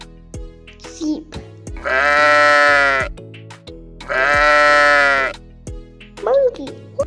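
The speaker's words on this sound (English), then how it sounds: "Sheep." Two long, loud sheep bleats, each lasting about a second, with quieter animal calls and short sounds around them in a children's animal-sounds sequence.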